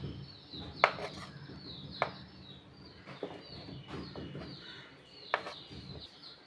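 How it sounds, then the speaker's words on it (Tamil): A knife chops pieces of vegetarian liver on a board, a few sharp, well-spaced cuts standing out over a soft background hum, with no one talking. "இதை இப்போ சின்ன பீஸாக கட் பண்ணிக்கோங்க"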